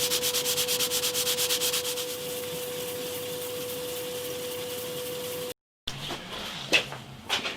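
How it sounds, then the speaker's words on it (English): Glue is sanded off polished aluminium on a guitar built from fence wood, a steady, close rasping hum with a fast pulsing texture and a constant tone that cuts off abruptly, followed by a few rougher scraping strokes; no one speaks. "in order to get the glue off, I'm going to have to sand this"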